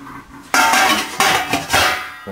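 Ceramic or metal pots knocking and clinking together in a kitchen while homemade cheese is prepared, several loud close clatters in quick bursts with no talking.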